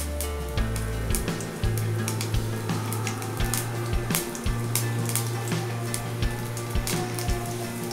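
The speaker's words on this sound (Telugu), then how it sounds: "జస్ట్ కలర్ చేంజ్ అయ్యారు అంతవరకు ఫ్రై చేస్తే చాలు" Garlic and ajwain frying in hot mustard oil, a steady loud sizzle with crackling pops and occasional stirring clinks of a utensil against the pan, no talking.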